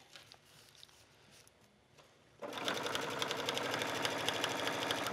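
A sewing machine stitches along the edge of a grosgrain ribbon skirt waistband, starting after a quiet pause and running in a fast, steady, close mechanical rattle.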